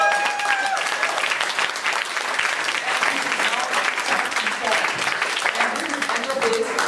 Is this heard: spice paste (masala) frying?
no